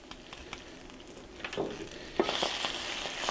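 Spinach seasoned with salt, pepper and nutmeg sizzles in a hot pan, a steady crackling hiss that jumps louder partway through as the leaves are stirred.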